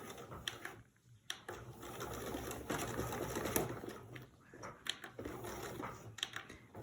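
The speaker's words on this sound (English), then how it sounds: "We're going to back stitch." A sewing machine back stitches the start of a French seam on a pillowcase, giving a fast, close whirring run with short pauses and restarts.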